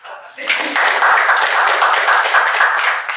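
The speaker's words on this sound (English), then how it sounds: "A hand clap for him." Conference audience at a session on localization clapping for a speaker from a Uganda NGO forum, a dense burst of hands starting abruptly and holding steady, fairly close and loud.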